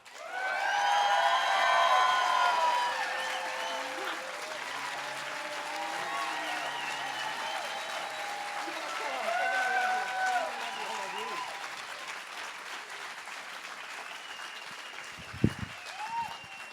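A crowd at a bawdy storytelling show for Howie Gordon breaks into loud, sustained applause with some whoops and cheers, the clapping slowly thinning out.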